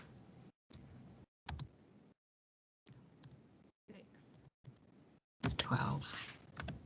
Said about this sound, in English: I'm going to type the rest.